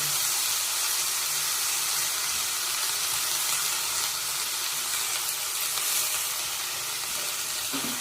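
Fenugreek leaves frying in a pan for pulao, giving a steady, close sizzle with a soft crackle that runs unbroken throughout, no voices.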